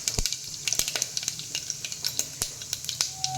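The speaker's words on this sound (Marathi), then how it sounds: "दोन टेबलस्पून तेल घातलेलं आहे त्याच्यामध्ये आता मोहरी घालूया अर्धा चमचा मोहरी अर्धा चमचा जिरं घातलेलं आहे" Mustard seeds, cumin and asafoetida fry in hot oil with a steady crackling sizzle, marked by sharp pops and spits throughout, heard close up with no talking.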